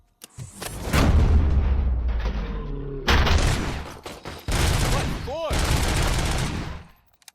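Gunfire from the Robocop: Rogue City video game, with loud, sustained bursts of shots broken by short gaps. Under the firing comes a faint electronic sweep and some game sound.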